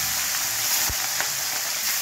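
Hilsa fish heads sizzling steadily in hot oil in a pan, a continuous close crackle with a couple of brief pops, no voices.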